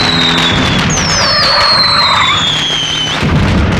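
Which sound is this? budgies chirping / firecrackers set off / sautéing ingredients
firecrackers set off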